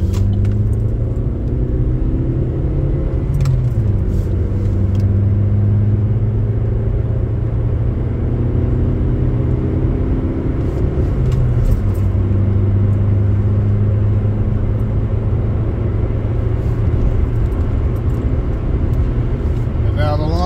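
A car getting onto the I-20 highway gives a steady, loud interior engine and road rumble throughout, with a few faint rattles.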